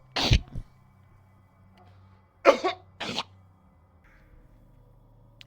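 A man coughs in short bursts, one sharp cough early, then a quick double cough a couple of seconds later, close and fairly loud against a quiet room, with a faint word spoken.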